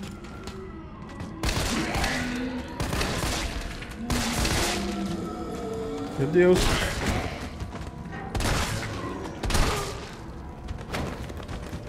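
Repeated bursts of gunfire in the video game Resident Evil 3, roughly a dozen sharp shots spaced a second or so apart, loud and close, with a brief exclamation from a voice.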